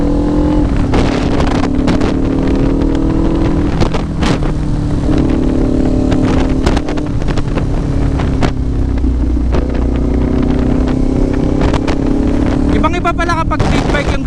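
Kawasaki Ninja 500 SE big bike engine revving with rev-matched downshifts while riding, loud and steady with wind buffeting the microphone throughout, and a rider talking over it.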